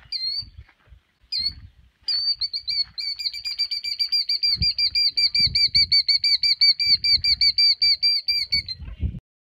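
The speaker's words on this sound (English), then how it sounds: "The Allosaurus' baby hears a sound. It's a killdeer bird" A killdeer calls with a rapid series of shrill, piercing notes, a few short cries and then a long run of repeated trills, close and loud.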